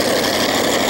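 Super Thing, Terry Davis's five-engine multi-engine pulling tractor of about 7,000 horsepower, at a 1987 tractor pull in Fishersville, giving a dense, steady roar with a low throbbing rumble underneath, loud and continuous throughout.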